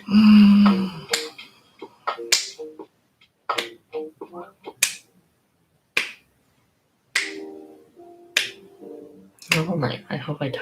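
Sharp percussive claps in irregular bursts of several, cheering on contestants during a long livestream, with a spoken voice between some of the bursts.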